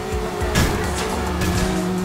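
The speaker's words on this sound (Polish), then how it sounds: "A tu jaki piękny korek, kilkadziesiąt samochodów" Cars jammed in heavy traffic in Grand Theft Auto IV, with engines droning and a brief tire screech or skid near the middle over a steady road rumble, no talk.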